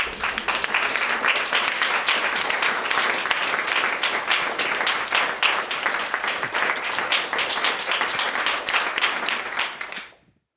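A crowd applauds loudly and steadily, dense clapping sustained for about ten seconds before fading out quickly at the end.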